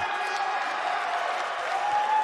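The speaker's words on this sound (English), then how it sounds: "You're watching WWE live from Los Angeles, and boy, is this crowd fired up." Arena crowd noise in the WWE 2K19 wrestling video game, a steady roaring wash of cheering and applause from a large audience throughout, loud and even with no distinct voices on top.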